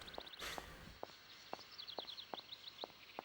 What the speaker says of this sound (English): I hear cuckoos.